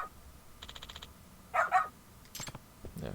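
A dog barking in the game Lost Judgment, a few short, moderately loud barks in a quick burst with a brief yip, set among light game sounds.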